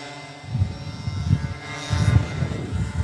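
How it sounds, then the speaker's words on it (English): Go-kart engines start together at the Purdue Grand Prix race, a low, pulsing rumble of several motors that surges and idles unevenly at a moderate distance, with no talk. "Gentlemen, start your engines."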